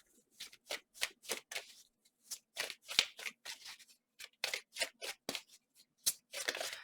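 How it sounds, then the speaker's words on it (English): A Shadowscapes tarot deck is shuffled in quick riffling bursts, a rapid run of papery card flutters close up and fairly quiet, with no talk over them. "This deck right here that I'm shuffling is called, it's called Shadowscapes."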